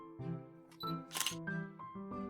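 A camera shutter fires in a short series of separate clicks, several sharp snaps spaced unevenly a fraction of a second apart, close and clear with nothing else beneath them.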